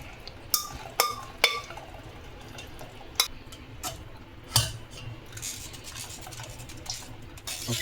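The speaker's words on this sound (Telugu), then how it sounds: "ఇలా మొత్తం వడగట్టేయాలండి." Cooked mulagaku (drumstick) soup water strained through a sieve, with sparse clinks and scrapes of utensils against a vessel and faint splashing trickle underneath, quiet and close.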